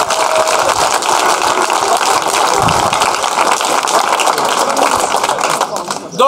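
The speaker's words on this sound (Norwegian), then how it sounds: "Vi kan ta en applaus for begge to," A crowd applauds steadily at a Norwegian rap battle event, dense sustained clapping with some cheering and voices mixed in throughout.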